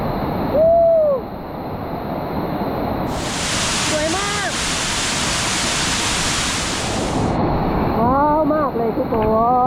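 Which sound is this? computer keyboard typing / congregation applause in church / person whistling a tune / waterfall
waterfall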